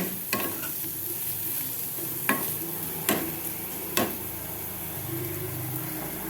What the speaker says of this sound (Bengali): পেঁয়াজগুলো একটু ভালো করে ভেজে নিচ্ছি